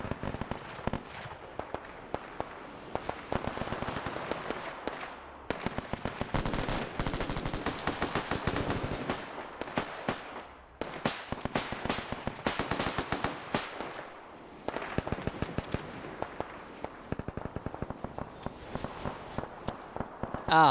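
Heavy gunfire rakes the player in Arma 3 on Tarawa, with dense bursts of automatic shots and rapid crackling volleys coming in waves, briefly dropping out between salvos.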